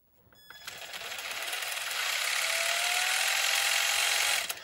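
The drivetrain of a two-wheel-drive RC car with open differentials spins up after a click, a loud whirring gear whine that rises in pitch and holds steady, heard close and alone.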